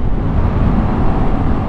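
A Yamaha MT-07 motorcycle engine pulls hard in sixth gear as the throttle opens, a loud, steady low rumble blended with heavy wind roar from riding at speed.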